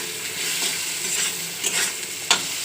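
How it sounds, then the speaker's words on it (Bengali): Potatoes fry with chopped onion, turmeric and salt in a pan, a steady close sizzle broken by a few spatula scrapes toward the end. "একটু ভাজা ভাজা করে নেবো, তারপর লঙ্কার গুঁড়ো দেবো"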